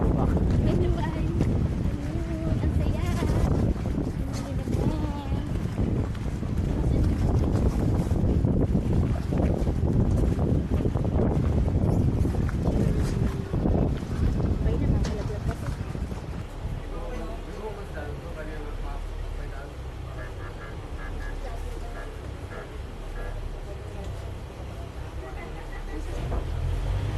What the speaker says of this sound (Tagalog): Nasa bangka. Going to Boracay.